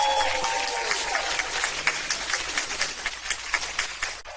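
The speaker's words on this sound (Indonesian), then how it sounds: "Selayaknya kita berikan tepuk tangan nomor 10 untuk orang yang luar biasa ini." Audience applause rings out in a large hall, a dense wash of clapping that swells with uneven peaks before cutting off near the end.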